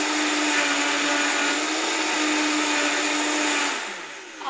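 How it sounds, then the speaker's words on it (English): A Vitamix blender runs on low while blending coconut, producing a loud, steady whirring drone that holds constant before winding down near the end. "And I'm going to start it on low."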